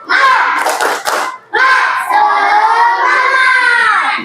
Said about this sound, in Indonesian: kita ice breaking dulu. Tepuk semangat